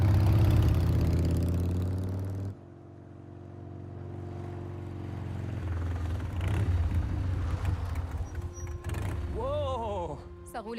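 Motorcycle engine in the Spider-Man 2 video game, a low droning hum with a steady tone that drops after a couple of seconds, then continues more faintly under French talk.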